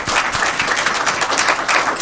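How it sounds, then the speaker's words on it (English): Attendees at a school board meeting give a brisk round of close, steady hand clapping that fills the short stretch. "let's give them another round of applause"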